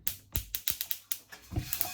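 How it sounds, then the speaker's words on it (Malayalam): Sesame seeds roasting in a hot pan for poha laddu, giving a quick run of sharp, close crackling pops at an irregular rhythm, with no talking. "എള്ളു നല്ല സൗണ്ടൊക്കെ കേൾക്കുന്നുണ്ട് ഒന്ന് പൊട്ടി"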